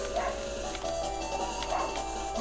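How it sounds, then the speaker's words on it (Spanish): Several dogs bark frantically outdoors, their faint yips and barks from some distance mixed into continuous video game music. "Y mis perros ladran como frenéticos afuera."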